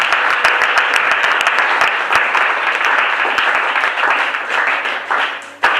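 Church congregation applauding and cheering: sustained dense clapping from a large crowd fills the room at a steady level throughout, ending with a sharp final clap.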